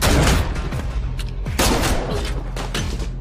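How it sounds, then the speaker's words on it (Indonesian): Film action scene with shotgun fire: several loud, sharp blasts in quick bursts, each booming out over a low rumbling background, with no talking. "Namun tak disangka-sangka, Mr. Beck malah mengambil shotgun dan menembak anak buah Kapten Joe."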